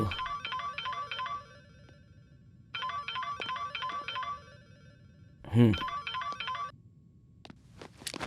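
A phone ringtone trills in two repeated bursts with a gap between, followed by a brief louder clatter, fairly quiet overall, in a Hindi-dubbed action film.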